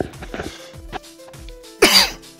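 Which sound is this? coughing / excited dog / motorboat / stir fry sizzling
coughing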